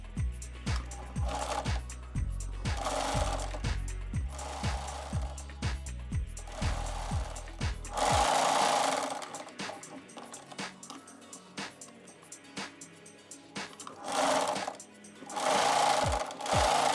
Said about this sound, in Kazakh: Бірінші кантымызды тігіп аламыз.